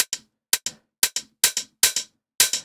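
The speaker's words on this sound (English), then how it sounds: "And that's how you get that tight, minimal tech house drum feel." A tight minimal tech house drum pattern with a short release, made of crisp, clicky hits in quick pairs that decay almost instantly, leaving brief silences between groups and keeping a sparse, dry, close sound.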